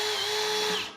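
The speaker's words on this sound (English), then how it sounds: "I like to put some screws in them. Run it in reverse first," A power drill whirs steadily for about a second while driving screws into pre-assembled wooden window trim, then winds down at the end, close and loud with no talk.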